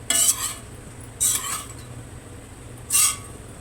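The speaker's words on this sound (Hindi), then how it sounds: "हमारे ड्राई फ्रूट अच्छे से भुन रहे हैं" Dry fruits and grated coconut being roasted in a pan while a utensil stirs them, making three separate bursts of scraping and clinking against the metal, with quiet gaps between strokes.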